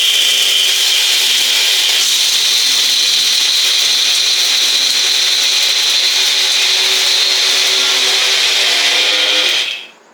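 Blender dry-grinding chickpeas, a loud steady motor whine with a gritty rush that holds for about nine seconds, then cuts off sharply at the end.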